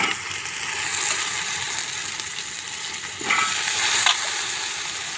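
Washed vegetables, including capsicum and potato, sizzle steadily in a pan over a wood-fired clay stove while being stirred for pulao, with occasional louder scrapes of the spoon and no voices.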